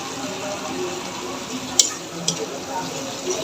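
Ground chili, turmeric, coriander and cumin being stirred into broiler chicken for a dark bhuna in a pan: a soft, steady sizzle with faint stirring scrapes and two brief sharp clicks of a utensil.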